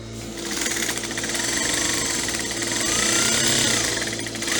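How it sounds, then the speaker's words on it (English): A sewing machine stitches the crotch seam of a women's trouser in one continuous, close, rapid mechanical hum, needle-driven and steady, with no talk. "so we're going to start stitching now"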